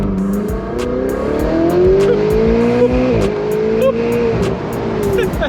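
A Ferrari 488 Spider exhaust drones and revs steadily from inside the cabin, pitch rising and falling as the engine climbs and eases, loud and continuous.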